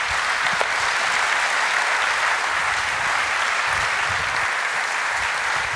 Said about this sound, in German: das Publikum gibt dir jetzt gleich einen riesigen Applaus